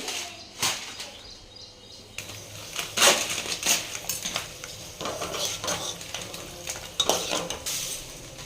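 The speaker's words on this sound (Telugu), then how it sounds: "సేమియా వేయించుకున్నాక కొంచెం గోల్డెన్ కలర్ వచ్చే వరకు వేయించుకోవాలి నెయ్యిలో" Vermicelli roasting in ghee for semiya payasam, irregular metallic scrapes and clinks of a spoon against the pan over a faint frying hiss, close by.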